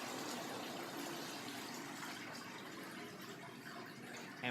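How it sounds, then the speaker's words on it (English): Water drains from a commercial dish machine tank during descaling, a faint, steady rushing gush that holds at an even level throughout with a small bump at the very end. "we will drain the tank"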